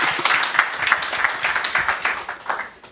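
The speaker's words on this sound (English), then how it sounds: "I think we can show more applause again" Audience at an academic talk applauding after the speakers, a moderate burst of scattered clapping that fades toward the end.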